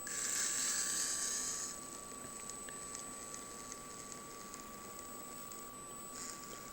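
A CR18P RC crawler's brushed motor runs in low gear with a thin, high electric whine. It is faint but louder for the first second and a half, then settles into a steady, quiet hum.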